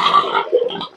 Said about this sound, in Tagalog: Siyang baboy, pag gutom yan, maingay talaga yan mga kababayan.